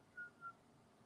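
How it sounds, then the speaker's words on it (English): Referee's whistle at a football match, two short blasts in quick succession, faint and fairly distant over low crowd ambience. "When will the final halftime whistle be blown?"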